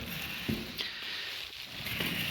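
The mechanism of an Italian-made Sitland leather office chair clicks and ratchets while it is tested, a few soft knocks over a steady quiet background, close by and with no talking.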